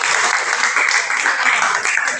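A classroom of students claps together, a brief dense burst of hand clapping heard close and loud, filling the room evenly without voices.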